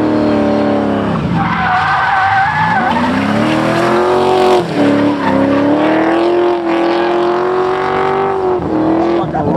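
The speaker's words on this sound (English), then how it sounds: "Every time I point the camera at someone, they spin out." LS-swapped car spinning out with tires squealing and skidding, a loud, close, sustained screech over a droning engine whose pitch rises and falls as the car slides and spins.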